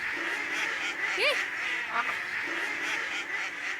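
A few scattered duck quacks, one louder and sharper than the rest, rise above steady, noisy outdoor background sound.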